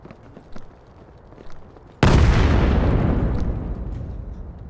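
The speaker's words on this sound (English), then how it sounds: "Nades coming in." Grenade blast in the tactical shooter Vail during a competitive playoff match, one sudden loud boom after quiet footsteps and ambience, followed by a long rumbling decay.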